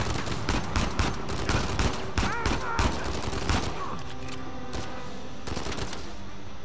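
Gunfire in Uncharted 4, a fast run of repeated shots over the first few seconds, then a few sparser cracks as the firing tapers off, with speech faintly underneath.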